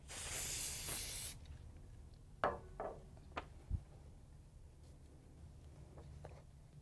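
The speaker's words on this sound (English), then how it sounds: "Lightly mist our transfer and we'll be able to apply it to our banner." A quick, bright hiss of a spray bottle misting transfer paper for about a second, followed by quiet taps and light handling noises.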